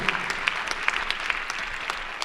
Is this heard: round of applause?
yes